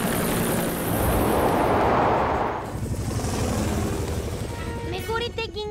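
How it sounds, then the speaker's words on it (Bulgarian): A loud whooshing cartoon helicopter rotor wash swells and fades, then gives way to rumbling and bright tonal effects, with excited voices shouting over it. "Скай, използвай вятъра от хеликоптера да прогониш мехурчетата от блатото."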